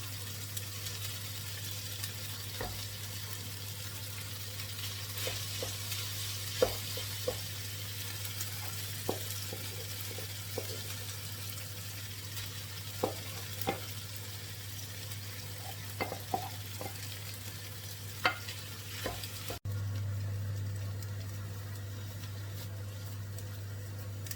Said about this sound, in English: So we just keep stirring this, and we incorporate the tofu into the potatoes